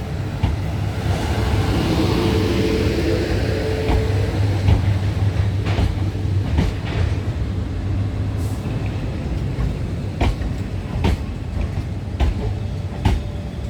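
An 8-coach passenger train, 450041, rumbles along at steady speed with a low droning hum, occasional sharp clicks and rattles from the track.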